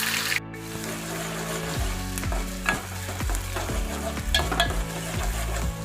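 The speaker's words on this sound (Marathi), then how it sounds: "आता कांद्याची फोडणी मारायला." Chopped onion frying in hot oil for a tempering while cooking sukha chicken gives a continuous close sizzle, broken by repeated scraping strokes of a spoon stirring in the pot.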